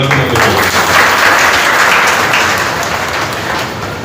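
Applause from parents gathered at a school orientation, a dense steady clatter of many hands clapping throughout, loud and close, with no talk over it.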